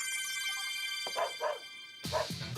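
Someone mimics a dog with a few short, yappy barks, two close together and then a louder pair after a brief pause, over faint background noise.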